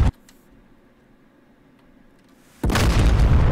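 An S-350 surface-to-air missile detonates in DCS, a sudden loud, broad boom that roars on for about a second after a quiet stretch.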